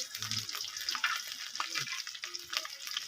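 Garlic dropped into hot mustard oil in a wok alongside dried red chillies, sizzling steadily up close with a few scraping stirs.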